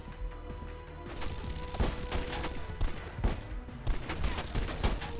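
Pistol gunfire in the video game Red Faction Guerrilla: a steady run of sharp shots with a few heavier cracks, set against a dense, busy battle din of continuous noise.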